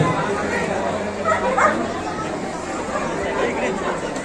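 A police dog barks a few times during a performance at an Independence Day celebration in a corporate park, partly buried under steady crowd chatter from a large outdoor audience.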